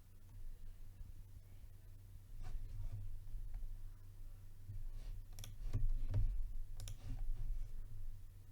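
Mouse clicks come while stepping through a software installer on a computer, a few faint, sharp, isolated clicks spaced irregularly over a quiet low background hum.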